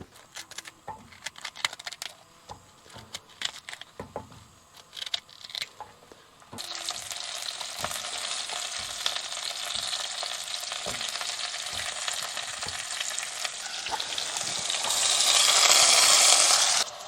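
Pork chops, cauliflower, broccoli and courgette fry at a campsite, first with scattered clinks and handling noises, then a loud steady sizzle that swells near the end.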